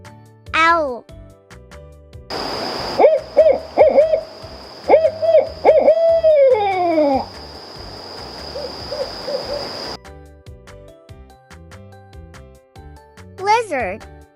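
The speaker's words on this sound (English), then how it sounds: "Owl," Owl hoots sound in a short repeated series of clear tones, with brief bird-like calls before and after and a voice naming animals nearby.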